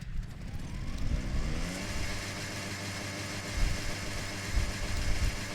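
A car engine in Forza Horizon 6 fitted with aftermarket exhausts, a steady droning idle that swells into a few rev blips, close and continuous with no talk.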